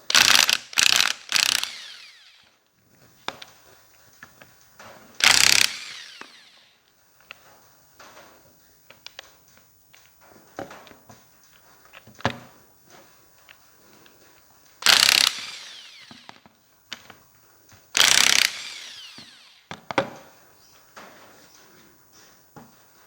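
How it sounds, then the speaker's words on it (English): A hand ratchet with a 9/16 socket loosens bolts on the hydraulic pump of an MF135 6-speed tractor, giving loud, close bursts of rapid clicking separated by quieter clinks and handling noises. "So we'll get a 9/16 socket."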